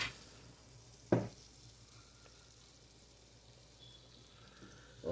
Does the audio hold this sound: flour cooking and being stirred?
yes